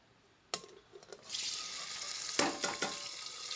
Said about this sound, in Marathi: आता तेल टाकले मी कुकरमध्ये